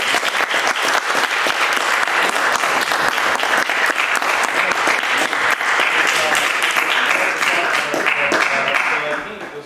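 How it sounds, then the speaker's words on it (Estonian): Loud, dense applause from an audience at a political talk event, a sustained roar of many hands clapping close by for nearly ten seconds before tapering at the end. "Saanud olla aplausi!"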